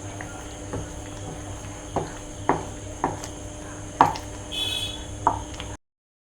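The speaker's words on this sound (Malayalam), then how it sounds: "കുറച്ച് നേരം ഇതുപോലെ നമുക്കൊന്ന് കൈയെടുക്കാതെ ഇളക്കി കൊടുക്കാം" A spoon or spatula stirring thick jackfruit jam (chakka varatti) in a pan, giving sparse, soft scraping knocks at irregular intervals over a steady low hum, with no talking.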